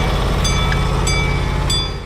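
A small passenger train rolls along its tracks with a loud, steady rumble close by. Its wheels clack rhythmically on the rails, and a few brief squeals rise above the noise before the sound fades slightly at the end.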